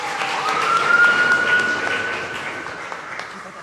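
Loud audience applause at a church gathering honoring a man's life, a continuous wash of clapping with a brief whistle-like tone riding over it early on.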